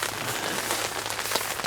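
Steady rain pattering on a tent, a dense close wash of drops with occasional louder hits, cold wet weather during a motorcycle trip, no voices.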